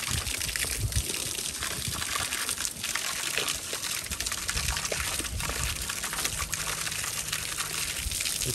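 Steady splashing and gushing water on an ostrich farm on a hot day fills the whole stretch, a continuous busy wash of liquid sound at moderate, even loudness.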